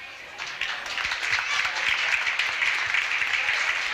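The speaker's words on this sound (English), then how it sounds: "so we don't have to keep clapping" An audience at an annual commemoration event applauds the event committee, a moderate spread of clapping that swells after a quiet start and holds steady.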